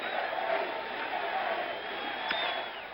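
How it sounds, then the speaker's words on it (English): A large baseball stadium crowd at a 1977 World Series game chants and cheers, a distant sustained roar with rising swells, faint and continuous under a broadcast. "Crowd is chanting, Red G, Red G."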